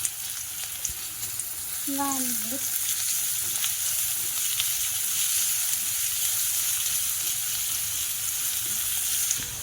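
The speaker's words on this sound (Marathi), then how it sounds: "कांदा जरा फ्राय करून घ्यायचं" Chopped onion frying in a pan gives a steady, close sizzle throughout, with a brief squeaky scrape near the start.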